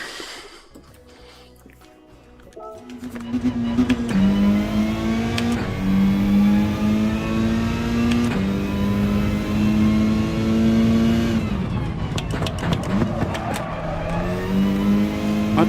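A race car at Mount Panorama in a video game launches hard after a quiet start, its loud mid-pitched engine climbing through the revs with sharp upshifts and continuing to wail close by.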